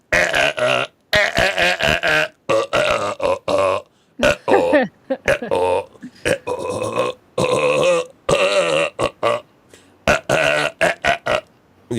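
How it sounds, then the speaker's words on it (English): A belch sample played back on a Casio SK-1 sampling keyboard, triggered over and over in loud, choppy bursts with short gaps between repeats, standing alone. "you had the obligatory belch recording"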